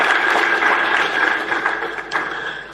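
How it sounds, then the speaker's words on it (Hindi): A crowd claps steadily, a dense patter of applause that thins slightly toward the end. "उनके लिए फिर से जोरदार तालियां बजाएं"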